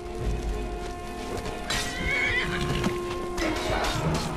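A horse in the video game Skyrim neighs loudly, a rising whinny followed by another, with clip-clop of hooves and steady game ambience underneath, up close.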